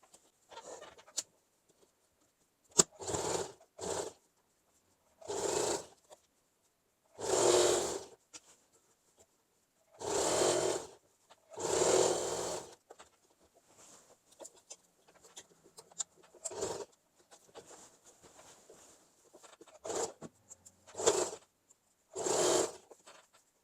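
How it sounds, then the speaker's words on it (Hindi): A sewing machine stitches a zipper onto fabric in short, whirring runs of about a second each, close and fairly loud, separated by quiet pauses and small handling clicks. "और बस इसके किनारों पर यहाँ से यहाँ तक ऐसे, फिर ऐसे, और यहाँ से यहाँ तक हम सिलाई चला देंगे।"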